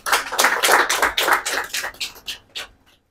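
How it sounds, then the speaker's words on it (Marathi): Ceremony audience applauding to welcome a guest, a short burst of close, dense hand clapping that rises quickly, holds for about two seconds, then thins into a few last claps and fades out. "टाळ्या वाजवून पुन्हा यांचे स्वागत करण्यात यावे"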